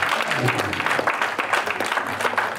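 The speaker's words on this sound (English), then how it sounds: "Give your pastor a big round of applause" Church congregation at a Sunday morning service giving their pastor a round of applause, a dense continuous wash of clapping from a crowd, steady and moderately loud, with some voices mixed in underneath.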